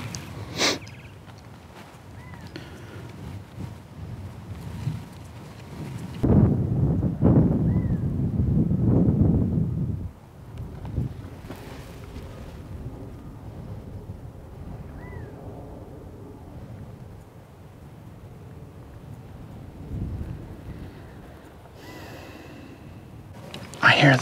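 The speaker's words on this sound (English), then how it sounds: "apologize for the wind" Storm wind buffets an outdoor microphone during wildlife filming, with low rumbling gusts that swell loudest for several seconds midway, then settle into a steady background roar.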